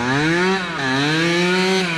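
1974 Yamaha MX100 two-stroke motorcycle engine screaming at high revs in third gear during a wheelie, a loud close buzzing whine that dips briefly and climbs again, alone without talk.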